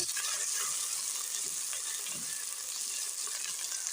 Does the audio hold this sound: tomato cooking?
yes